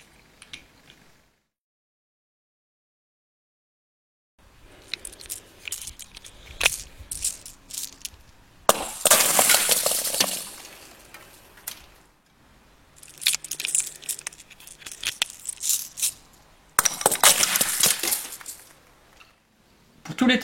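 Airsoft Innovations Cyclone gas grenade tested with 0.20 g BBs, firing in several separate bursts of sharp hissing spray with rattling pellets, each lasting a second or two between quiet gaps.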